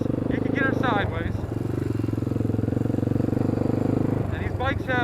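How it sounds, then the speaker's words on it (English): A Honda 300EX quad with a loud aftermarket exhaust rumbles steadily as it rides, a low throbbing engine note running throughout while someone talks over it. "you'll notice this bike with the exhaust is very loud"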